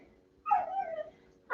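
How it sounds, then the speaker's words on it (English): A pet dog gives one drawn-out, high whimper lasting about half a second in a quiet room during a home yoga session, followed by a brief louder sound at the end. "I'm sorry about my dog."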